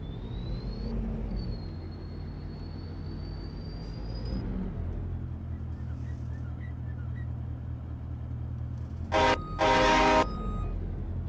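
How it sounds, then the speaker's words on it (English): A train horn in Farming Simulator 22 sounds as a steady, fairly faint tone over a low rumbling engine drone, followed later by two short, brighter bursts of sound. "Sounds like a train."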